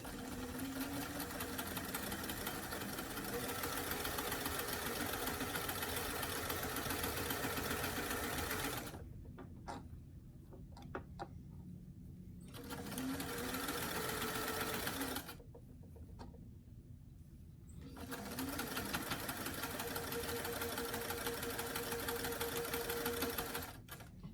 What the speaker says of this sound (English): I'm switching this stitch back to a straight stitch and between a 3 and a 4.